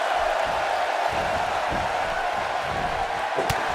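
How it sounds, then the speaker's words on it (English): Steady roar of an excited wrestling arena crowd in the WWE 2K18 video game, a dense continuous wash of cheering with a sharp impact near the end. "you can hear how excited the crowd is"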